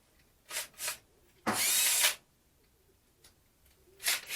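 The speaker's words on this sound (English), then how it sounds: "like what I'm doing now for drilling and things" A cordless power drill, either a Makita or a Milwaukee, fires in short bursts while rigging a light: two quick brief whirs, a longer half-second run, then two more short pulses, close and fairly quiet.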